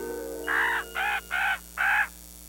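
A raven in solo flight over the nesting territory of a pair of jaegers gives four hoarse caws in steady succession, loud and clear over a quiet backdrop.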